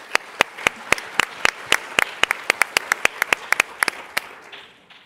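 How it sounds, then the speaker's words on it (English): Sparse, sharp hand claps from a small conference audience after a startup pitch, irregular and fairly close, fading out near the end. "Give them a round of applause."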